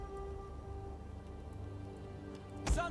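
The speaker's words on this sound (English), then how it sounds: "It is raining." Steady rain falls across a Total War: Rome 2 battlefield, a soft continuous patter with a low ambient hum beneath and a brief louder splash or thud near the end.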